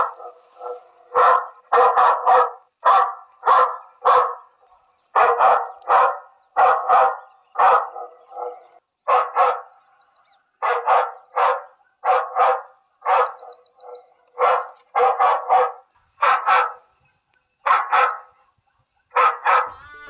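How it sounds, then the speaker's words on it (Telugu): Dog barking repeatedly, amplified through a village microphone and loudspeaker: a long run of loud, evenly spaced bark bursts in quick pairs and clusters, with no speech. "ఇప్పుడు కుక్క సౌండ్ వస్తున్నదిగా మైక్లకెళ్ళి"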